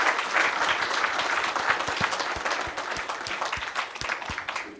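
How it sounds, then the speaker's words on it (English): An audience at a peace and security panel session claps for the panelists, sustained dense applause with a few sharp nearby claps standing out, fairly loud throughout. "ask for all of you for a big and loud clap for our"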